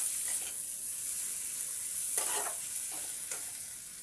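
Tomato fries in hot oil for muri ghonto, a faint steady sizzle broken by a few short scraping stirs, close and with no voices.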